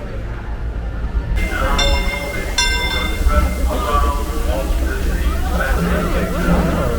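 Rumbling ride on the Disneyland Railroad at Disneyland, with steady low rolling noise, a few metallic squeals and chimes, and background chatter from people nearby.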